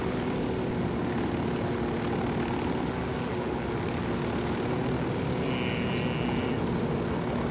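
A helicopter in the video game Ghost Recon Wildlands flies with a steady, dense rotor and engine drone, loud and unbroken from start to finish with no talking over it.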